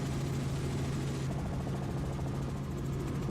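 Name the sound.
helicopter flying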